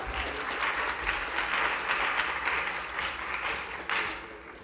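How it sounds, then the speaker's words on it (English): An audience at a hip hop film festival Q&A after-party applauds, a dense wash of clapping that swells and holds for several seconds, then tapers slightly before a brief fresh burst near the end. "Please give him a round of applause."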